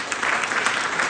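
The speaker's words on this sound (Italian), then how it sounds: "un grande applauso anche per loro" An audience at a première event applauds, a dense, steady burst of clapping from many hands filling the room.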